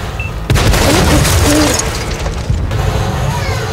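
Tank battle in World of Tanks, loud booming cannon and crash noise that thickens into a heavy continuous rumble, with a second hit partway through and a voice faintly underneath.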